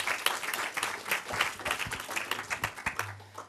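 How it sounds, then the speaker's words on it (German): Audience applause welcoming a film director at a post-screening film talk, moderately loud with irregular bursts of clapping and faint voices in the room beneath it. "aber schon mal einen Applaus für ihn, Florian Kossen"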